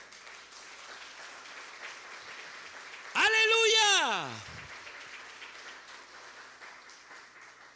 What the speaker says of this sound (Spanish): Dele gracias con un aplauso al Señor.